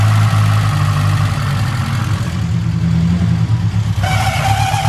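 A Peugeot 205 engine idling steadily after starting, a loud close low rumble with an even throb, and a higher whine joining near the end.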